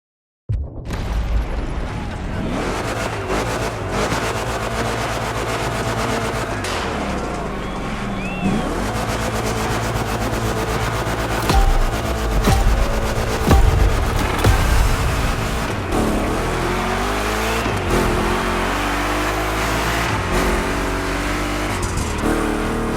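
Two Chevrolet big-block cars race in The Crew Motorfest, their engines roaring and revving continuously and loudly throughout, with shifts in pitch as they accelerate through rough turns.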